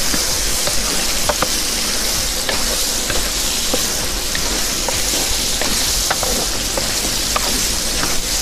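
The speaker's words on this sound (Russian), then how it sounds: "мясо наше начало обжариваться" Cubed lamb and meat frying in a pot for bograch, giving a steady close sizzle with scattered sharp pops and crackles throughout, no voices.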